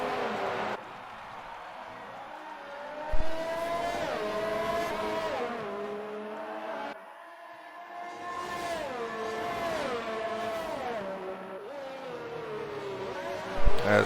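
Formula-style race cars in a video game race at the Baku street circuit, engines whining up and down through the gears as they accelerate and shift, with a few louder passes, faint commentary underneath.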